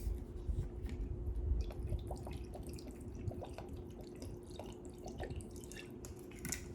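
Rice wine vinegar trickles from a bottle into a bowl of chicken marinade, a faint close-up splashing and dripping that goes on for several seconds with no talking.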